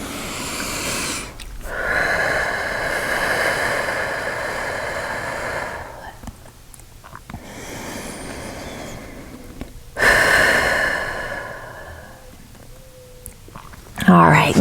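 Slow, deep breaths during a slow-flow vinyasa yoga session for anxiety, a few long audible inhales and exhales with soft airy texture over quiet room tone, ending in a sharper exhale.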